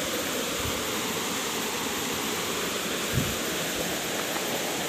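A river stream flows beside rice fields, a steady broadband rush of water that holds even and continuous throughout with no voices.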